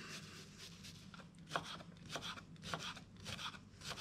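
A knife slices a shallot in half on a cutting board, giving a few soft, quiet scraping cuts with light clicks, close and alone.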